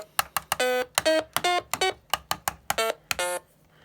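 A Stylophone plays a quick run of short buzzy notes with a wobbling vibrato, about a dozen staccato tones in an uneven rhythm, close and unaccompanied.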